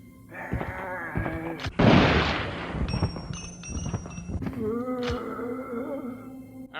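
A single loud shot from a .45 Auto handgun fired at close range in a video game, a sharp broadband blast followed by a ringing tail over game music and effects.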